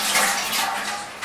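Tap water runs steadily for a short stretch as hands are rinsed in a home kitchen after kneading samosa dough, a broad continuous splash with no talk over it.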